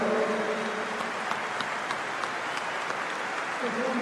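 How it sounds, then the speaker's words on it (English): Applause from a large stadium crowd at Liverpool's Premier League title celebration, honouring club staff; a steady, dense wash of clapping lasting throughout, with faint voices beneath. "We should give them a big round of applause as well"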